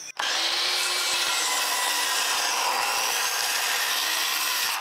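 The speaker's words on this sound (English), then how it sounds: "now we're trying out the Milwaukee 10 1/4 inch framing saw" Milwaukee 10 1/4 inch circular framing saw set to maximum depth ripping through wood, a loud continuous whining, grinding cut that starts abruptly and holds steady for nearly five seconds.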